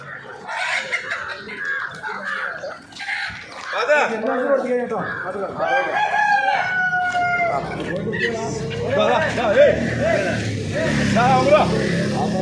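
A native rooster crows once, loud and close, amid busy Sunday poultry market noise in Perambra, Kerala, with people talking nearby.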